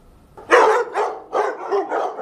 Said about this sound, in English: That's the sound of some of the dogs rescued from a recent hoarding case.